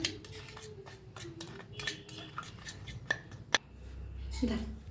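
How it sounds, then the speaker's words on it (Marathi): Sooji sev being tossed with a spice masala in a bowl, with soft scraping and clinking of utensil against the dish, then a single sharp clink, all faint and close. "जो मसाला बनवून घेतलाय त्याला असं एकदम मिक्स करून घेऊया आपण."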